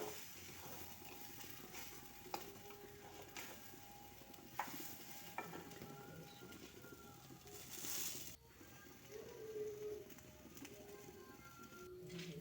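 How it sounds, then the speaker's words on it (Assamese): Tender coconut and nuts fry softly in a kadai with a faint, steady sizzle and occasional stirring clinks, while pigeons coo quietly in the background. "এইখিনি কেৱল আমি 5 মিনিটৰ কাৰণে ভালকৈ ভাজি ল'লেই হ'ল।"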